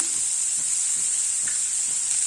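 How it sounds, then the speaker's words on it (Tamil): Turmeric and chili powder stirred in a pan over a low flame, giving a steady close sizzle with soft scraping strokes of the spoon repeating throughout. "நல்லா கிளறி விட்டுறலாம்."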